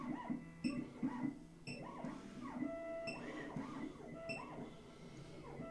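Xhorse Condor XC-Mini Plus II key cutting machine running with a 1.5 millimeter cutter, a fairly quiet, rhythmic whirring of repeated motor sweeps and faint beeps, steady and close with no talk.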